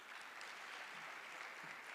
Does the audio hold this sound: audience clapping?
yes